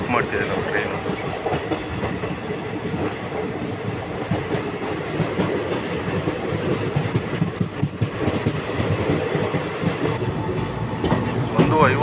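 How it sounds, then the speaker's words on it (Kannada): A train runs through Unkal railway station without stopping, heard from on board: a continuous loud rumble with rhythmic clickety-clack of wheels on rails throughout. "ಉಣಕಲ್ ರೈಲ್ವೆ ಸ್ಟೇಷನ್ನ ಸ್ಕಿಪ್ ಮಾಡ್ತಿದೆ ನಮ್ಮ ಟ್ರೈನು."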